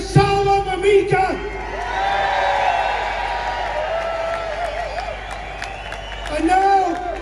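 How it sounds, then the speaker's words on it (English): A rally crowd in London cheers and whoops for Salwan Momika, a broad sustained roar of many voices with scattered shouts, swelling again toward the end. "Let's have a massive cheer for Salwan Momika."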